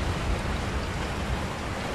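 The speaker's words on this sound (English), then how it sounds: "Is it gonna rain like this the entire episode?" Steady heavy rain in the Resident Evil 4 VR video game, a constant broadband hiss of falling water with low rumbling undertones, loud and unbroken throughout.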